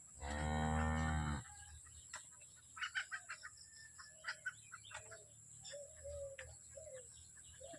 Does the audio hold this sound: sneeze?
no